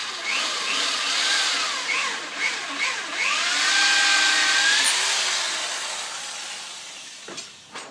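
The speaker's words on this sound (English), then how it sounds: "all I've got to do is drill a hole through my little mark" A power drill whines and grinds through a metal stove panel, its pitch rising and bending as it bites, then tapers off with a short rattle at the end.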